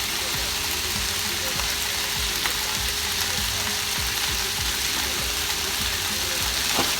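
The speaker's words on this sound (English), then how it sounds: "So I will saute it for about a minute to just allow the veggies to cook a bit" Gizzard and green pepper sautéing in a pan, a steady dense sizzle that holds at even strength throughout with faint scraping, no voices.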